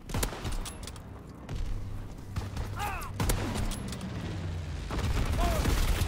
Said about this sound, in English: Enemy bomber! Incendiary bombs incoming!